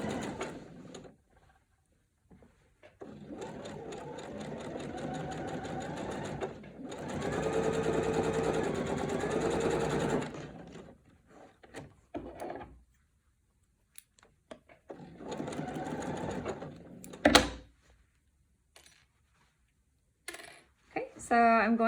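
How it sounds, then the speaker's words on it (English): A sewing machine stitches binding onto a quilt along a drawn line, running in several bursts of rapid, even whirring separated by quiet pauses, with small clicks and one sharp clatter near the end. "I'm going to go ahead and sew directly on the line I just drew."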